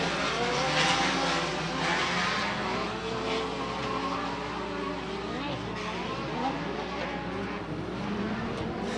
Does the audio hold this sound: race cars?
yes